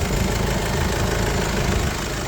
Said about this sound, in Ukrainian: Чиста гарна робота двигуна, потьоків ніде немає.